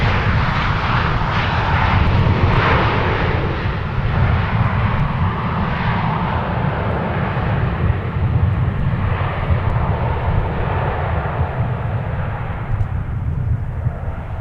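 Airliner arriving at Minneapolis–St. Paul Airport, a loud sustained jet engine roar and rumble holding steady throughout, broad and heavy, with no voices over it.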